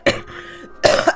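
Two short, loud, close coughs from one person a moment apart, with a faint lingering tone between them.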